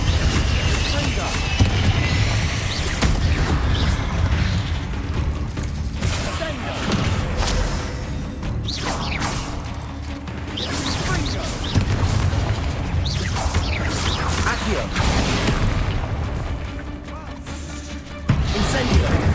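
Repeated booming fire-blast explosions from the Confringo spell in the Hogwarts Legacy video game, heavy low blasts and crashing debris over continuous game noise, with a voice talking throughout.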